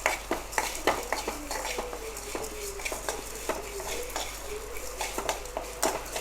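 Chicken sukka frying in a pan with steady stirring, a metal spoon scraping and clinking repeatedly against the pan over a soft sizzle, close and continuous.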